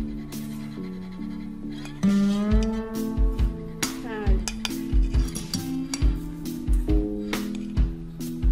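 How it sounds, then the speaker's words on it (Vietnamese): A spoon scoops and taps sugar for a flan, giving bright clinks and scrapes against a bowl or container in irregular bursts, with a voice speaking over the clatter. "mình lường 6 muỗng đường"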